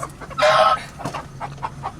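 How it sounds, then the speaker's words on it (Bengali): Village hens clucking inside a laying coop: a loud, close burst of clucking and squawks, followed by softer, scattered clucks that continue to the end. "মুরগি ওদের ডিম পাড়াতে ঢুকছে"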